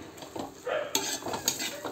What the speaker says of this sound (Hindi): तो अब इसे डाल के मिक्स कर लेते हैं।